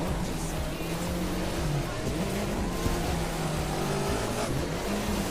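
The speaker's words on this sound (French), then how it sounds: "elle glisse trop cette bagnole, ça m'énerve" A rally car slides and drifts off-road in The Crew 2, its engine droning steadily with gravelly tire scrabble and shifting revs throughout, no pauses, under a dense noisy mix.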